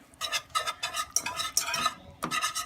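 A whisk scrapes quickly and rhythmically around a pan, working flour into a mac and cheese sauce in several short bursts of close, bright metallic swishing with brief pauses between.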